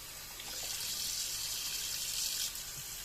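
Vine leaves being rinsed under a running kitchen tap while being prepared for brining: a steady, close hiss of flowing water that rises slightly in the middle and runs continuously with no talking.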